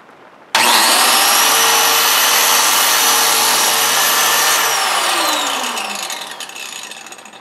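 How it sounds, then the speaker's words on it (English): Handheld power tool cutting into clamped material during installation of a solar powered ventilation fan: an abrupt, loud, high-pitched whining cut that holds steady, then slows and fades as the tool winds down. "And then you pull the trigger and then push it into the material."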